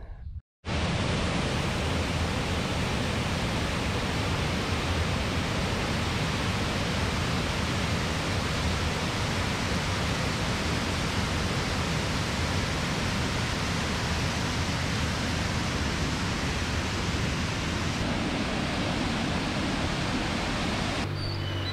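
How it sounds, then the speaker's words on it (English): Water pours steadily from an artesian well at a West Virginia chapel, a constant close rushing hiss that starts abruptly and continues unbroken, with no voices. "they have an artesian well here where people come and get water"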